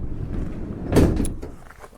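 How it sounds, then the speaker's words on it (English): Sliding side door on a 2025 Citroen Berlingo van, a single brief slam or latch thud near the middle, close and moderately loud over a low background rumble, with a fainter clunk just after. "You also have this side door."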